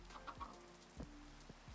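Chicken clucking in the video game Minecraft, a few soft, short clucks spaced over a couple of seconds, faint and alone with no talk.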